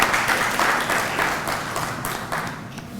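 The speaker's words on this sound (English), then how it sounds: "Let us welcome her with a big round of applause." An indoor audience at an IEEE inaugural session claps in a dense, sustained round of applause that stays loud and gradually eases toward the end.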